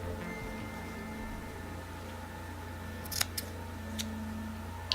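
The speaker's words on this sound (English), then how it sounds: "Let's cut this bear open." Scissors snip into a small stuffed toy bear, a few sharp close cuts near the end over a quiet hiss, with no talk.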